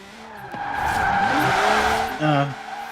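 A 1992 Honda NSX-R drifts in Forza Horizon 4, its tires squealing loudly over a revving engine. The slide lasts a couple of seconds, then a second short squeal follows.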